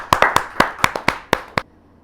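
Audience clapping for a poet at a Hindi poetry gathering marking Independence Day, heard as about eight sharp, evenly spaced claps over under two seconds, close and loud, then stopping abruptly.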